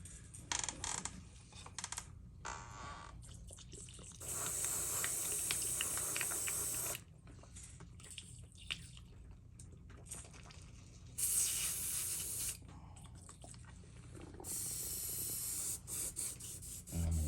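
Several sustained bursts of hissing white paint spray from a nearby airbrush being cleaned out, with quieter clicks and rattling between them.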